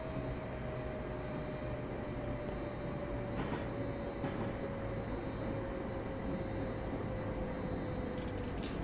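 A Class 350 electric train brakes in a train simulator game on the West Coast Main Line through Trent Valley, a steady loud rolling rumble with a slowly falling tone and a couple of faint clanks, no talk.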